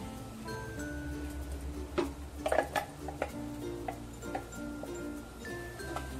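Ground masala being stirred into black pea curry in a pan, with scattered clinks and scrapes of a spoon against metal, fairly close, over a low steady hum.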